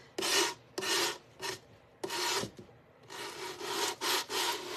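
Beeswax brick rubbed back and forth along the wooden sides of a piece of furniture, a series of close, loud, scratchy strokes in rhythmic bursts with short pauses between.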